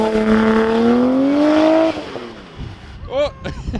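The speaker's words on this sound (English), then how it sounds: "Give her some good rips so Kevin can drive it and get pulled over." A Nissan R32 Skyline fitted with a new exhaust revs hard and close, rising harmonics climbing through two long pulls before cutting off, followed by a few sharp short blips as people exclaim nearby.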